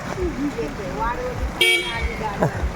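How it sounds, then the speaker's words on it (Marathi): A vehicle pulls up on a rainy road and gives a short, close horn toot, heard over engine and traffic noise while people talk nearby. "आणि फायनली आपली गाडी येते ही बघा"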